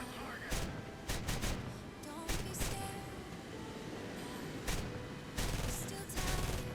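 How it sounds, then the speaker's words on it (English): Gun bursts from an F-86 Sabre firing at a MiG in a flight combat video game, several short loud fusillades repeating irregularly over a steady engine drone. "We get a few shots into him"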